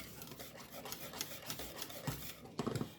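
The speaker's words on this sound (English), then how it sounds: "That's why I'm steadily scraping the bottom of the pan" A spoon scraping the bottom of a pan of thickening chocolate fried pie filling, made with cornstarch, gives soft repeated rasping strokes close up with no voices.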